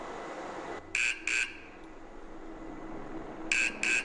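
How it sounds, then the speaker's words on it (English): Electronic warning horns sound in a stage show with a pyramid set and strobes, two short bursts early and two more near the end, each a bright, steady tone over a low background rumble. "And warning strobe and horns, go."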